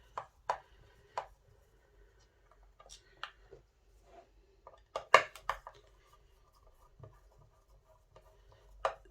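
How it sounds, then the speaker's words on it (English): Phillips screwdriver undoing two screws on a bridge of a 1970s-style modified Squier Jaguar guitar: scattered short scratchy clicks and light scraping bursts, close and fairly quiet, with pauses between them and no talking. "You just undo these two screws with a Phillips screwdriver."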